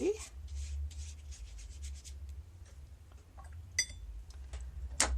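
An old candle scrap is rubbed across paper as a resist, making soft, irregular scratchy strokes at close range, quiet and intermittent with a few sharper ticks.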